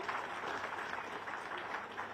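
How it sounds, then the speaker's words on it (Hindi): Steady applause from an audience at a Jharkhand event for Chief Minister Hemant Soren, a continuous mid-level patter of clapping without pause. "तालियां होती रहे लगातार"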